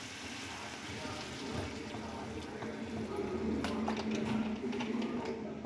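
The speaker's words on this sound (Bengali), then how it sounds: "এর মধ্যে এবার আমি সিদ্ধ করার জন্য পরিমাণ মতো একটু জল ঢেলে দেব।" Water pours into mutton curry cooking in a pan, a steady liquid splash and bubbling, moderately close, with faint clatter and no clear talking.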